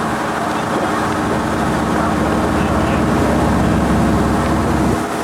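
Boat engine droning steadily with rushing water during a ferry ride to Ko Si Chang island, loud and continuous, with a voice talking over it.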